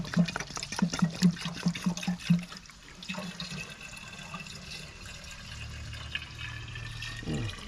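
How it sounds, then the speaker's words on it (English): Water pours and splashes into a container at a village site, fed by a pump from a construction area, with rhythmic gulping splashes at first, then a steadier rushing fill close to the microphone. "So you're putting water here."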